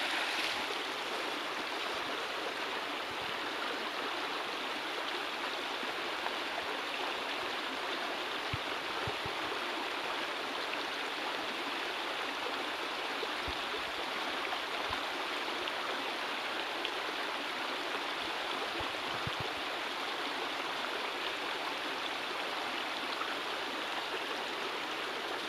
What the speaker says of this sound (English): That water sounds nice.